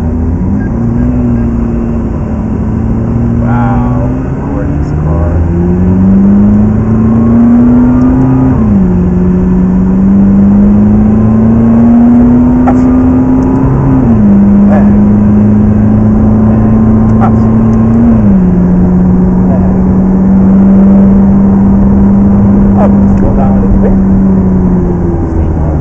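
A McLaren 650S sports car engine revs hard on a racing track, loud and close, with pitch climbing through several gears in repeated rising sweeps that drop at each shift.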